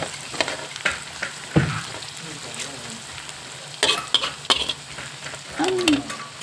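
Shallots fry in a pan with a soft steady sizzle, broken by intermittent clinks and scrapes of stirring, fairly close and moderately quiet, with no one talking.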